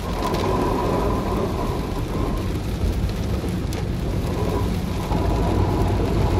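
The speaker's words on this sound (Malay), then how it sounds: "Hujan sangat lebat." Very heavy rain pours down in a dense, steady hiss while driving on a road, loud and unbroken throughout.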